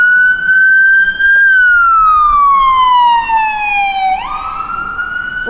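Ambulance siren on a Dublin street, very loud and close, a long wailing tone that holds, then slides steadily downward before jumping back up, heard alone without talk.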